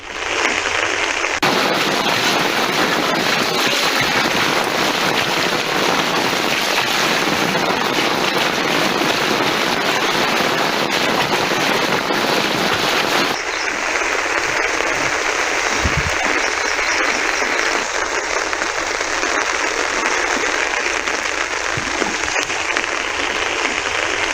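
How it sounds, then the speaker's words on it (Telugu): Torrential rain pours down in Vijayawada, a loud, unbroken roar of heavy downpour that briefly shifts in tone partway through while continuing without pause. "విజయవాడలో కుండపోత వానలు దంచి కొడుతున్నాయి"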